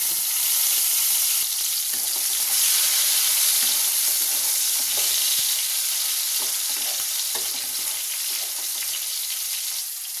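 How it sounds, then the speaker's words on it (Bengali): Tomatoes hit hot oil with panch phoron in a kadai, giving a loud, steady sizzle that runs unbroken with faint scraping stirs underneath. "এবার দিয়ে দেবো টমেটো"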